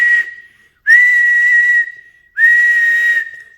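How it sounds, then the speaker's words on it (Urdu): Loud, sustained whistle blasts sound up close, three long shrill blows separated by brief pauses, with nothing else heard. "سیٹیاں بج گئی ہر طرف۔"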